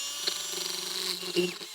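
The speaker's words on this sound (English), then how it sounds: "take my drill and just put me some holes right above" A power drill bores holes into a planter above its concrete base, a steady close whine with small shifts in pitch and a brief catch near the end.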